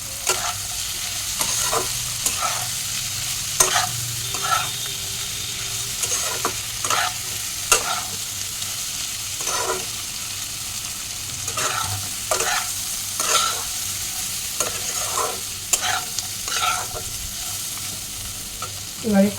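Spice masala with cumin and coriander powder sizzles steadily in a pan while a spatula scrapes through it in regular stirring strokes, close and continuous, with no talk.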